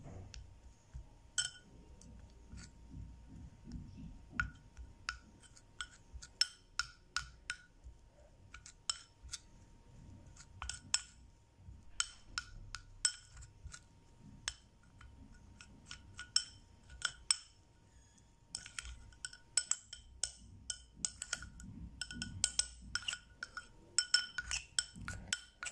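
A spoon clinks and taps against a container while homemade BB cream is stirred, giving quick, light metallic ticks in uneven clusters throughout, close and fairly quiet, with no talk.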